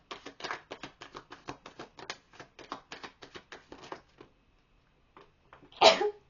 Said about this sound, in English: Never sneeze during a reading.